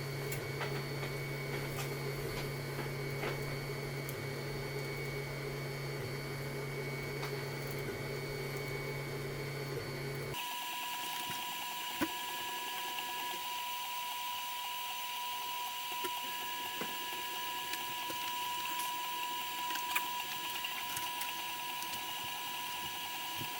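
Monoprice Select Mini V2 3D printer printing for the first time, a steady mechanical whir with faint stepper-motor tones that shift in pitch midway, running alone without talk.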